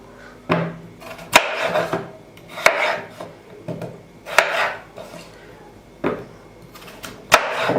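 A knife halves İzmir köfte meatballs on a board in a kitchen, giving about ten sharp, evenly spaced chops and taps, each with a brief scraping tail, close and clear.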